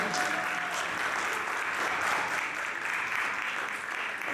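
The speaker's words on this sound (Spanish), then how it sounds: "Un aplauso, por favor" Steady audience applause fills a dance arts gathering after a foundation director is introduced, a dense even wash of many hands clapping from start to finish with no voices over it.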